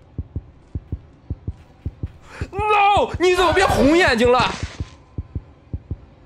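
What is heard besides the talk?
heartbeat sound effect in the video game Granny 3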